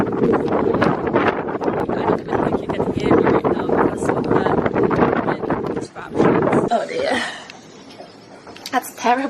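Gale-force wind buffets a sailboat during a storm in the Mediterranean off Sardinia, loud roaring gusts rushing across the microphone, with a voice speaking through much of it before the wind eases near the end.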